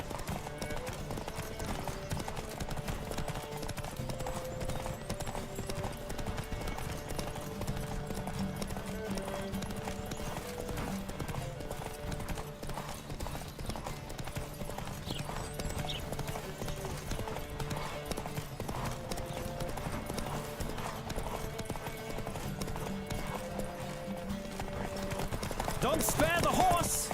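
Horses gallop with steady, rapid clip-clop hoofbeats throughout a race, a short whinny rising near the end, with a rider's voice breaking in now and then.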